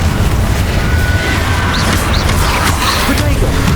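Confringo blasting spells and other spell impacts in the Hogwarts Legacy video game, dense continuous booms and crackling bursts under a steady loud combat bed, with shouted spell incantations in the mix.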